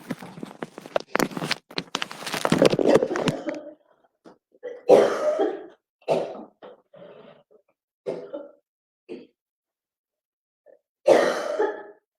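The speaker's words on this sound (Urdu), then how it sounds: "مجھے اندازہ نہیں تھا کہ مجھے کھانسی اٹھے گی اس وقت" One person coughs repeatedly, starting with a loud rough fit and then fainter single coughs and throat clearing separated by quiet pauses, with no speech.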